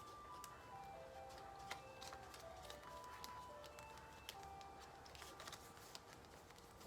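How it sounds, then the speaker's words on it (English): An ice cream truck jingle plays somewhere outside, a faint, distant chiming melody of repeated tinkling notes over a quiet, steady background, with scattered small ticks and taps. "Y'all know, and that's the ice cream truck."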